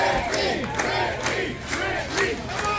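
Loud arena crowd at a live professional wrestling event in Phoenix cheering and roaring in repeated swelling waves, with shouts rising above the dense continuous crowd noise.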